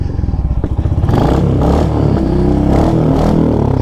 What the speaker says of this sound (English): Enter Hunter 350 with a Diabolo pipe, among other things.